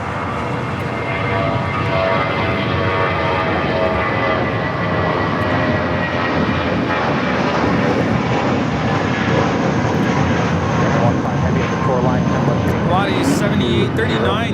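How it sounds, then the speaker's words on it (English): Japan Airlines Airbus A350-1000 jet taking off at Los Angeles International Airport, a loud steady engine roar that builds slightly across the stretch, with a voice talking over it. "Got that Japan Airlines A350-1000 up next for takeoff on the 25"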